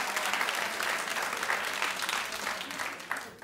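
A studio audience at a daytime talk show claps steadily and fairly loudly for a few seconds, with a dense, even wash of applause that fades slightly at the end.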